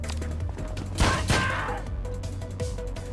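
Gunfire in the action-strategy video game John Wick Hex: a couple of sharp shots crack close together over a steady low game ambience, followed by fainter impacts.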